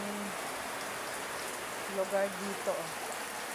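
Heavy rain pours down on a flooded street, a loud, continuous hiss of water under a few brief spoken words.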